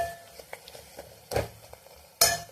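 Chicken curry with fresh coriander stirred in a pan, Telangana style: soft scraping and light ticks of the spoon with two louder metallic clanks against the pan, close up, over a faint sizzle, no voices.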